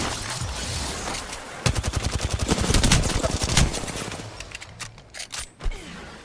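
Gunfire in the video game Apex Legends, a rapid automatic burst of loud, close shots that runs for a few seconds and then trails off into a few scattered single shots.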